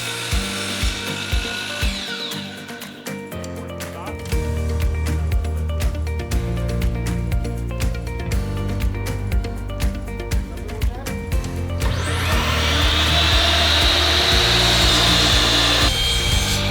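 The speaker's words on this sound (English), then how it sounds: "we were getting a miter saw and sawing angled pieces to elevate a base for the mini replica" Miter saw cutting angled wood pieces for a raised base on a small replica model, heard as a loud, sustained grinding whine with rough scraping, swelling louder near the end over a busy workshop background.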